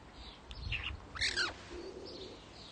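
A pet bird named Sophie chirps in a few short, bright bursts, close by and fairly clear, with soft rustling around the calls and no talking.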